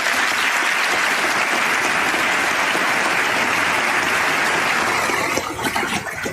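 Audience applause during a political speech on immigration policy, a sustained dense roar of clapping that holds steady throughout before thinning slightly near the end as the crowd stands.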